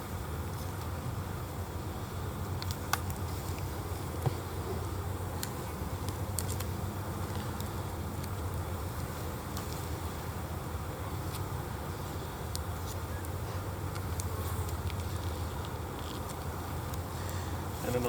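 Honey bees buzz in a steady, droning hum around an opened hive box during beekeeping. The buzzing is continuous and moderately loud, with a few faint knocks and handling sounds.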